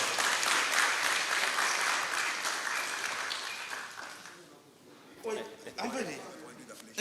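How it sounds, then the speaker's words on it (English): Sustained applause from the audience at a book launch fills the room, loud and dense, then fades out, after which a voice begins speaking. "I think he deserves another big round of applause."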